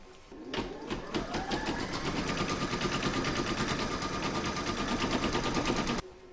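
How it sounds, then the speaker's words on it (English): An embroidery machine stitches a vinyl placement outline on fabric held in a hoop, a loud, rapid, steady mechanical chatter running continuously for about five seconds before stopping abruptly. "Then you're going to stitch round number 1, that's going to give you your vinyl placement outline."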